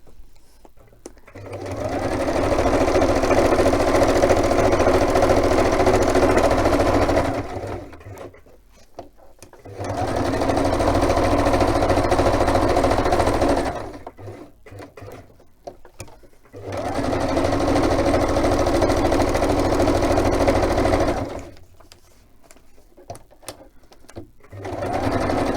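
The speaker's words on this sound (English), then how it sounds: "So first I'm going to stitch around this to hold it all together." A sewing machine stitches around a fabric project in three long, steady runs of rapid whirring, each several seconds long, separated by short quiet pauses with faint handling noises.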